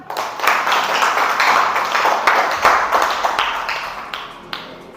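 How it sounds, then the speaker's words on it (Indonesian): Students in a classroom applaud together during a teacher's lesson, a dense, steady patter of many hands clapping close by for about five seconds before it begins to thin out. "coba berikan tepuk tangannya, nak"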